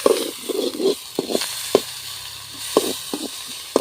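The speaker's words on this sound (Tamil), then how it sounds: "இப்போ நல்லா கிளறுங்க" Goat brain fry being stirred and sautéed with ginger garlic paste in a pan, steady sizzling with scattered spoon scrapes and clicks close by, no voices.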